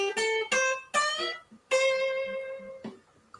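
A jazzy electric guitar lick, picked with a plectrum, sounds as a few bright sustained notes with one long held bend, close and clear with no talk.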